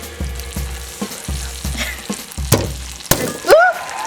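Garlic sizzles in a hot pan for salsa verde, a steady frying hiss broken by regular knocks and thuds of a utensil, with a short squeak near the end.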